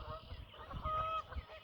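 Geese on a lake honk back and forth in a few short calls over a faint background, with a quiet voice murmuring now and then.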